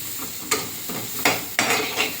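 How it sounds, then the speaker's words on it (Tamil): Grated coconut sizzling and crackling as it fries in a little ghee until reddish-brown, with a few sharp stirring scrapes at a steady pace, close and fairly loud. "தேங்காயை போட்டு நல்லா செவக்காக வறுத்து எடுத்துக்கோங்க கொஞ்சமாக நெய் விட்டு"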